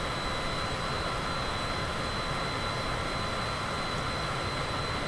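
Steady, even drone of an aircraft engine with its throttle eased back slightly in Microsoft Flight Simulator 2024, holding at a constant level throughout with no other sounds.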